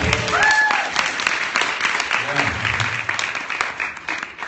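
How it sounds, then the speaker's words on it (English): A convention panel crowd applauds with dense, steady clapping, and a voice or two speaks briefly over it. "Let's give her a round of applause."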